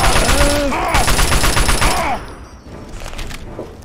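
Assault rifle fire in Fallout: Tale of Two Wastelands comes in rapid bursts of sharp cracks over the first two seconds, loud and close, then fades to softer ambient game noise.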